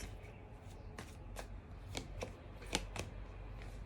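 Tarot cards being shuffled by hand, a soft papery riffle with several crisp flicks and taps in an uneven rhythm, close up and fairly quiet.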